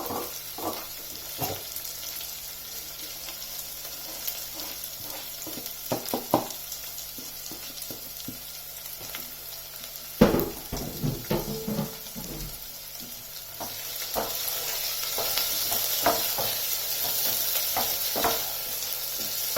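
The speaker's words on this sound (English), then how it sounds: "I'm going to add the onion part of the spring onions and fry them." Chopped spring onions fry in a pan while making vegetable pulao with cooked potatoes, giving a soft steady sizzle with scattered clicks and stirring knocks, close and moderately quiet, growing into a fuller hiss near the end with no talking.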